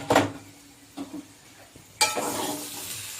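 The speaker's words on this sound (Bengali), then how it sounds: "এবার আমি ঢাকাটা খুলে নিচ্ছি।" A cooking pot lid comes off during jackfruit and chickpea curry preparation, giving a short metallic clink, then quieter knocks, then a sustained steamy hiss and sizzle that rise and hold to the end.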